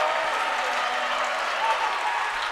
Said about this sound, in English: Good clap there by the crowd for the Panthers